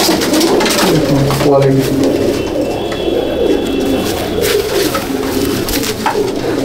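Old-breed Madrasi pigeons coo steadily and close by at a pigeon sale in Bauria, Howrah, with someone speaking briefly over the continuous murmuring calls.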